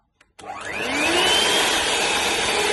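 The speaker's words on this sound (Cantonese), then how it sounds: "跟住就開機就混合" A food mixer switched on to blend flour into dough for Hong Kong style egg tart pastry, clicking on and then spinning up into a loud, steady whirring drone that continues alone.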